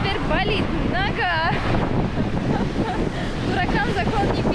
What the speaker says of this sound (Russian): Мы купались вот здесь, в таких волнах.